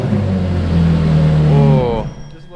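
A cold Ferrari 430 Scuderia engine with newly replaced headers gives a short, gentle throttle blip: a deep close rumble swells, rises briefly in pitch, then drops away to near quiet.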